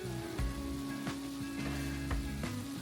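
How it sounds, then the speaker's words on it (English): A pound of hamburger with one diced medium onion browns in a frying pan, a steady close sizzle with a few soft scrapes and stirs at intervals, no voices. "I've got a pound of hamburger browning with onion, with 1 medium onion diced"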